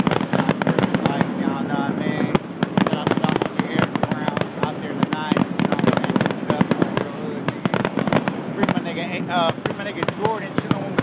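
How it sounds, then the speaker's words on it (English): Fourth of July fireworks in a neighborhood crackle and pop continuously in dense rapid bursts, with people talking over the noise throughout. "Fireworks, 4th of July"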